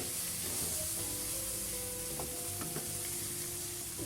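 Drumstick (sojne) flowers with a few tender young stems frying in a pan, a steady close sizzle with light stirring scrapes running throughout.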